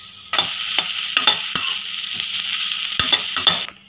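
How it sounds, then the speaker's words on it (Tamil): Milk being sautéed and stirred in a pan for carrot halwa, with a constant close sizzle and repeated sharp scrapes and taps of the spoon against the pan, and no one talking. "பாலை நல்லா ஒரு 2 நிமிஷம் நல்லா வதக்கிண்டாச்சு."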